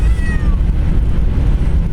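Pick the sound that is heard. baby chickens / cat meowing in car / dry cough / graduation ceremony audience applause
cat meowing in car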